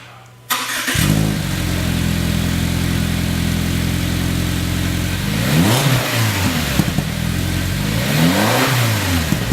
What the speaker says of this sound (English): here is the startup with the factory equal length header setup